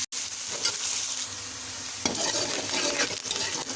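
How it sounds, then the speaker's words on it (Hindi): Onions frying in leftover ghee in a pan, giving a steady close sizzle with a soft stirring scrape and a louder burst of spattering partway through, and no voices. "उसी में हम ये जो हमारे पास प्याज रखा हुआ था वो हम इसमें डाल देंगे, और इसको 2 से 3 मिनट के लिए फ्राई करेंगे।"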